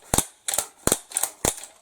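Close dry-fire clicks from an AR-15 rifle trigger at an outdoor range, five sharp mechanical snaps spaced evenly about a third of a second apart, with nothing else in between.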